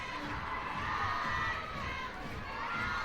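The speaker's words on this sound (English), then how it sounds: "Crowd's into it." Softball stadium crowd at a Tennessee vs Ole Miss college game, a loud, sustained wash of cheering and high shouting voices that swells steadily throughout.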